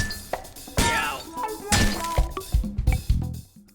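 Blunt melee strikes from the Demoman's Bottle in the VR shooter H3VR, a Team Fortress 2 weapon mod: several sharp clanking, glassy hits at uneven intervals, close and fairly loud.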